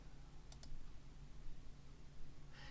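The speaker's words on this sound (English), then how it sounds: "and then click on OK" A computer mouse clicking an OK button: a couple of quick, light clicks near the start and another brief clicky burst at the end, close and faint over a low background hum.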